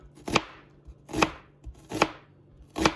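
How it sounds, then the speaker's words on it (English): Onions are chopped on a board with four distinct, evenly spaced knife strikes, each a crisp close thud with a brief ringing tail, no talking. "You just want to chop up your onions"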